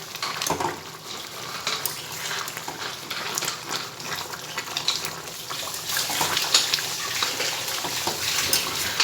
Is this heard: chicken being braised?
yes